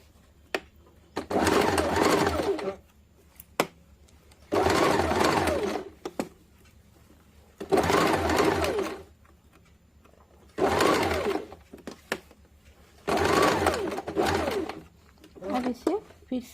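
A sewing machine stitches a blouse in repeated bursts of about one to two seconds each, loud and close, with quiet pauses and a few sharp clicks in between.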